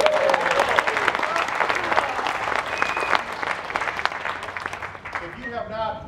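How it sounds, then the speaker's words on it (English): An outdoor crowd gives a round of applause for a fife and drum percussionist at a Civil War music event in Zoar, Ohio, dense sustained clapping with voices mixed in, fading toward the end. "so let's give Phil a big round of applause."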